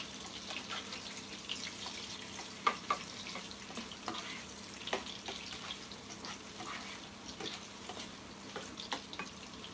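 Sausage frying in a pan gives a steady, close hiss of sizzling fat, broken by scattered sharp pops and crackles throughout, with no voices over it.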